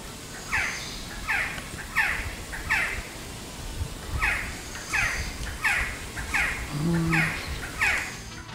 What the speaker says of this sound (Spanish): Suena el sonido del quetzal.